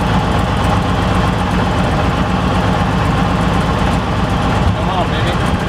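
A Beechcraft Staggerwing aircraft engine idling, a loud, steady close rumble throughout without any clear change.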